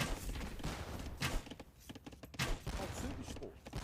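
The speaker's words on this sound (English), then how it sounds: "That's starting to get to a good amount of organ guns already." Organ guns firing in an Age of Empires battle, dense overlapping rattling volleys and thumps in rapid bursts, loud and continuous, mixed with other battle noise.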